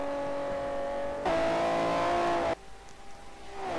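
BMW M car with a 3.5-litre six-cylinder engine of 277 horsepower racing in the Forza 4 video game, its engine holding a steady loud drone, then surging harder as it revs up before dropping back to a quieter tone.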